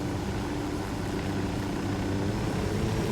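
Propeller airplane engine in the video game Ghost Recon Wildlands, a steady droning hum running evenly and continuously throughout, fairly close and uninterrupted.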